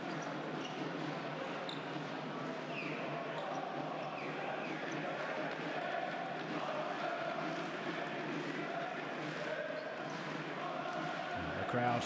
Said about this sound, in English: The crowd in fine voice here, as they always are